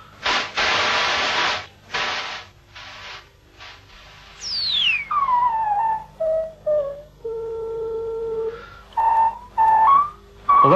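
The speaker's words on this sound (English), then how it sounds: "that's the sort of whistling sound that I want" Synthesizer white noise bursts through a filter that tightens until it becomes a pitched whistling tone, a series of separate hissing notes that narrow into sliding, whistle-like pitches.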